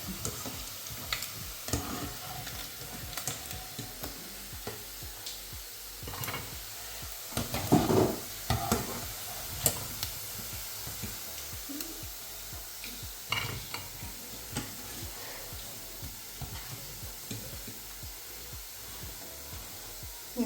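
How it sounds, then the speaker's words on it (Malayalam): Prawns frying in spattering hot oil for pickle, a dense continuous sizzle with irregular crackling pops and a few louder spits near the middle, close and steady throughout with no talking. "ഇടയ്ക്ക് ഇങ്ങനെ എണ്ണ കുത്തി തെറിക്കുക അതുകൊണ്ട് ശ്രദ്ധിച്ച് വേണം നമ്മളത് കോരിയെടുക്കാൻ"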